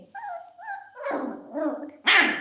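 A puppy yelps and whines in a series of high-pitched barks, close and fairly loud, ending with a sharper bark.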